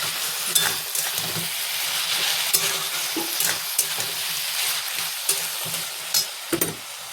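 A pan of vegetable chorchori stir-fried until the liquid cooks off, giving a steady sizzle and hiss with repeated scraping of the spatula against the pan, close and fairly loud, with no voices.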